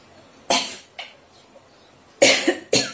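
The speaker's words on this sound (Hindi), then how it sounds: "खांसी आ रही है आज मुझे" A woman gives four short, sharp coughs, close by in a quiet room, in two pairs with a pause between them.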